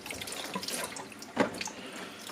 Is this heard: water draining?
yes